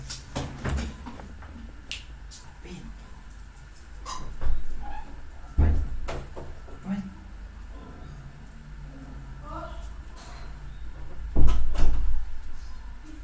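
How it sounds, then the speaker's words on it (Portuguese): Door opened indoors to let a dog outside, a few sharp clacks and thuds of the latch and frame spread over several seconds against a quiet room. "vou só aqui abrir a porta aqui para o cachorro sair"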